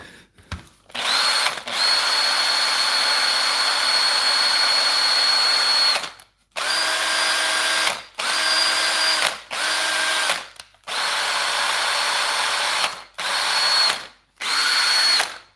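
A Makita power tool fitted with a new genuine DC motor runs in bursts, a loud, close whine starting and stopping several times with a long first run and shorter pulses after, no talk.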